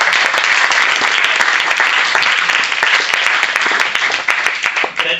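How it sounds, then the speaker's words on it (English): Loud, close crowd applause rings out at a startup weekend closing ceremony in Košice, brisk and dense clapping that holds steady before thinning slightly near the end. "With applause."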